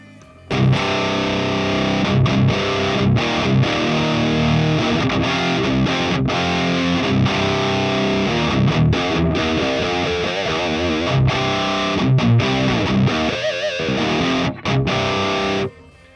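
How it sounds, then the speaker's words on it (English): Heavily distorted high-gain electric guitar riffing through an ML Dizzy K100 speaker, close-miked with an E906, playing loud chugging palm-muted chords with brief stops for about fifteen seconds. "let me just show you how the K100 sounds like with the E906 mic"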